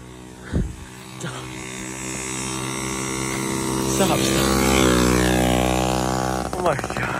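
A Yamaha PW80 dirt bike engine revving up and accelerating, a loud buzzing two-stroke whine that climbs steadily in pitch and holds, with excited voices shouting over it.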